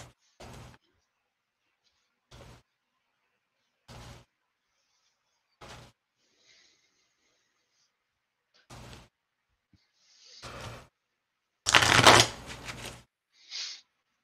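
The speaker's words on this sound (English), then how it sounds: "So I'll shuffle this into my deck." Magic: The Gathering cards are shuffled into a deck during a Premodern match, heard as a series of short, soft riffles spaced a few seconds apart, ending with a louder, longer burst; no voices accompany them.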